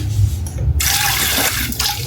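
Water runs loudly from a tap into a container, filling it for watering a tomato plant, and there is a brief pause partway through before the gush resumes.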